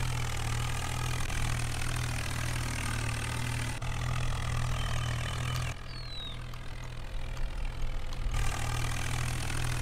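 A tractor engine in the Farming Simulator 19 video game runs at a steady, droning idle throughout, with a low constant hum and a faint hiss layered above it, close and unbroken.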